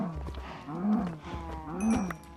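A Minecraft cow moos twice, low drawn-out bellows rising and falling, close and clear with short pauses between.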